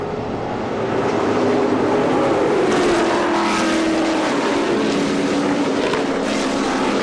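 Can-Am race cars with big 5.7 to 8.3 liter engines roar past at a historic race meeting at Monterey, a loud continuous throaty blare with shifting engine pitch as several cars race together.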